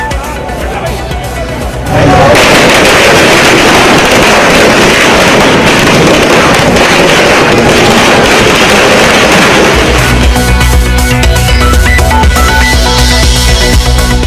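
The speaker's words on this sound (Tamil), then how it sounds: "பட்டாசு வெடித்து இனிப்புகள் வழங்கி இபிஎஸ் ஆதரவாளர்கள் உற்சாகம்" Dense, continuous crackling of firecrackers bursting loudly and rapidly for several seconds at a political supporters' celebration in Tamil Nadu, with crowd noise underneath.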